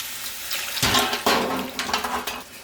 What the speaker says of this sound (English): we're going to start adding the braising liquid to the pot now